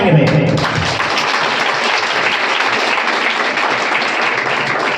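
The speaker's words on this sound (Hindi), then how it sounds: "प्रभु के जी उठने के लिए ताली बजाएंगे भाई।" A church congregation at a Friday prayer service claps together, a loud, steady wash of applause that starts abruptly and continues evenly for several seconds.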